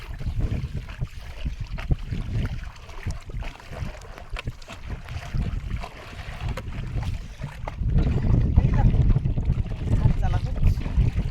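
A forest department speed boat approaches on the Garal river, its low engine rumble steady under wind and water noise and then swelling louder for the last few seconds.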